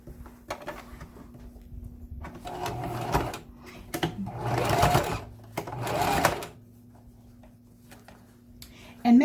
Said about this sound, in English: Let's sew a straight line, 1/8 of an inch, to close up that hole there.